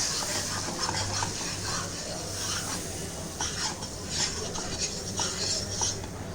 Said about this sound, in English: then we'll add 2 teaspoon of all-purpose flour, and then we'll give it a mix.